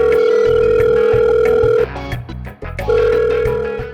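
A loud electronic phone ring tone repeats, pausing briefly before ringing again, with nobody picking up.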